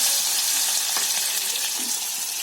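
Garlic and onion fry in a pan, giving a loud, continuous hiss of sizzling oil with faint scraping from stirring, and no voices over it.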